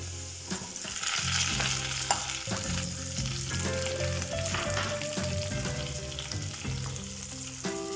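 Onions fry with a steady close sizzle as they are stirred around a pan for restaurant-style chilli chicken, with utensil scrapes and knocks running through the frying and no voices.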